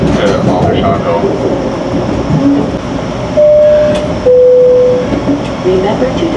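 GO Transit commuter train running westbound, a loud steady rumble and rattle of the rail car close around, with two sustained tonal squeals and a voice talking over it.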